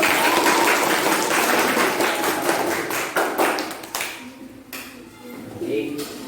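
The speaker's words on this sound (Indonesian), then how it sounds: "Beri tepuk tangan yang meriah untuk Kenji" A classroom audience claps loudly and densely, the applause dense at first and then thinning out into scattered claps, with voices talking underneath.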